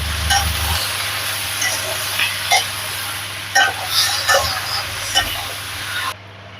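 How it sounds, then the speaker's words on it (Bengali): Vegetables sautéed with turmeric in a pan for a thin katla fish curry, giving a steady soft sizzle with scattered clinks and scrapes of stirring, close and moderately loud, ending abruptly near the close. "এক চামচ পরিমাণ হলুদ গুঁড়ো দিয়ে দিলাম দিয়ে এখন আমি সবজিগুলোকে ভালো করে কষিয়ে নেব"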